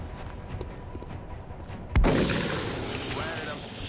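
A single loud shotgun blast in the strategy video game XCOM: Enemy Within, a sharp boom that hits near the middle and then rings off, following quieter background game ambience.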